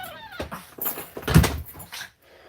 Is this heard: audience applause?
no